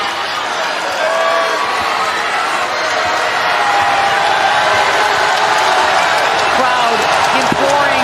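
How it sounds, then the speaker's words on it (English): An arena crowd at an NCAA second-round women's basketball game between Gonzaga and Utah roars in a loud, sustained wall of noise urging on the defense, with ball bounces and sneaker squeaks beneath and a commentator talking over it. "Crowd imploring the Gonzaga defense for a stop."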